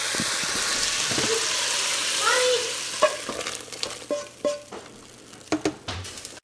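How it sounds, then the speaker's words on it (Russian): Onion and carrot frying in about 50 grams of butter in a pot, with a loud steady sizzle at first, then quieter hissing broken by a run of distinct spoon scrapes and knocks. "я обжариваю лук и морковь и примерно использовала 50 грамм сливочного масла"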